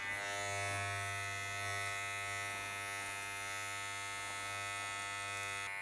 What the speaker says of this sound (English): we're creating the guideline with the clipper closed.